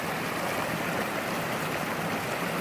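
Stream water on a hiking trail up Mt Whitney rushes in a steady, close, broadband wash, unbroken and constant in loudness.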